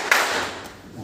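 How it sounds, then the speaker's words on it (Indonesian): Two hand claps in a classroom teaching session: a sharp, fairly close clap followed by a fainter second one, with no talking. "tepuk 2 kali"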